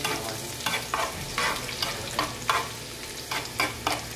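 Chopped onion fries in a pan for Filipino ampalaya with egg, a continuous sizzle punctuated by a regular series of spatula scrapes and stirs, close and clear.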